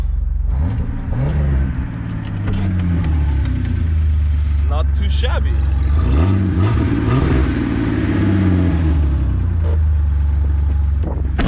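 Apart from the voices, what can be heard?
car engine revving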